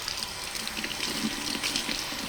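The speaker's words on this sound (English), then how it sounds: "So I'm gonna rinse them under running water." Vegetables from a garden being rinsed under a running kitchen tap, a steady hiss of flowing water splashing into the sink, continuous and close with no talk.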